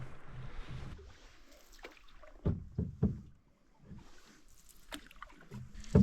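Paddle strokes from a canoe on a small forest lake or pond in western Spain, a few soft splashes and knocks with gentle water dribbling between them, close by and with no talk.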